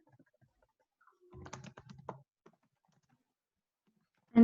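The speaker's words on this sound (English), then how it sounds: "So I can go down here now and just type in those vanilla." Soft keystrokes on a computer keyboard come in a short, quiet cluster of clicks, followed by a single louder knock at the end.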